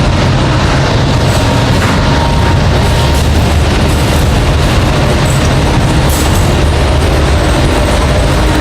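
A train rumbles past close by at a dog-training ranch, a loud, dense, continuous roar of rolling wagons with low thumps and clanks throughout, steady from start to finish with no talk.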